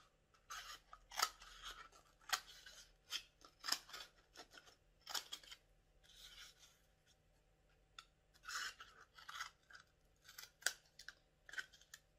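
Scissors snip little rings from a tube for a tiny pompom hat, a run of close, crisp cuts repeating every second or so with brief pauses between, no voice over it.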